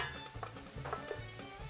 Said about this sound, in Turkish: Domates, salça ile birlikte güzelce karıştırılıyor.